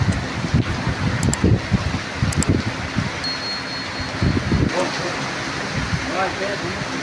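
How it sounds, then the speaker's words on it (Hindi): Heavy stormy rain with wind in Lahore, a dense steady hiss of downpour with gusty rumbling buffets, heard close and fairly loud while people talk over it in the first few seconds. "तूफानी वो बारिश, तो बहुत पानी है"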